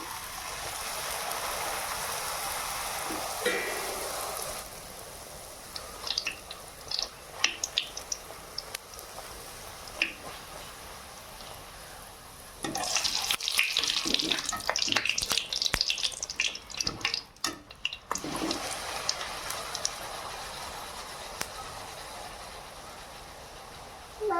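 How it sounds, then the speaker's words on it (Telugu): Puris deep-fry in hot oil with a steady, loud, hissing sizzle that swells into denser bursts of crackling bubbling midway, close and continuous with no talk. "నూనె వేడైంది. ఈ పూరీలను అయితే వేసుకుంటున్నా."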